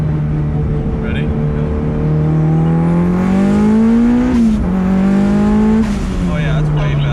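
A Mitsubishi Evo pulls hard in second gear, its engine note rising steadily and loudly from inside the cabin before a brief shift dip and continued drive.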